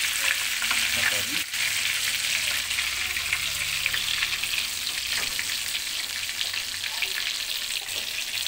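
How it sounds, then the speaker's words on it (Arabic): Food fries in hot oil with a steady, dense crackling sizzle that carries on throughout, with occasional stirring clinks and no talking. "احنا قربنا نستهيو من عملية القلي"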